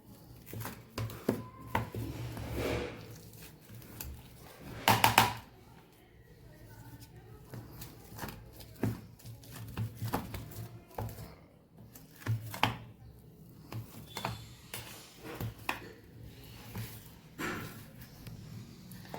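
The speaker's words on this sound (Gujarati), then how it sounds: "અહીંયા આપણે બટેકાને પાવભાજી મેસરથી મેશ કરી લઈશું।" Boiled potatoes being mashed with a pav bhaji masher for farali bateta vada, giving a steady series of soft, close squishing thuds and scrapes with one louder knock midway.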